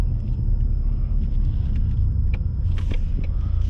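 A 2021 Ford Mustang with the 2.3 L engine and High Performance Package, heard from inside while driving: a steady low road and engine rumble runs throughout, with a few brief faint clicks and knocks from the cabin.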